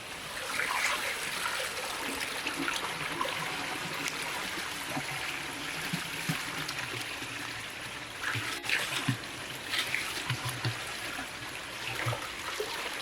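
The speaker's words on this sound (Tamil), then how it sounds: "இப்போ நம்ம கழுவுற தண்ணி வந்து காட்டாத்து வெள்ளம்." Steady broadband rush of a mountain stream running over rocks in a forest, continuous and fairly close, with occasional splashes and no talking.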